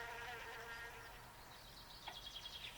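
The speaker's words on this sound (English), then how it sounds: "It's a wasp! Somebody help me, there's a wasp!" A wasp buzzes in a comedy scene, a thin, wavering high drone that is fairly faint, followed near the end by a few sharper bursts and clicks.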